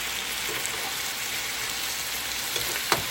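Chicken thigh meat frying in a pan, a steady soft sizzle with faint crackle throughout and a sharper pop near the end, fairly quiet and close, no talking.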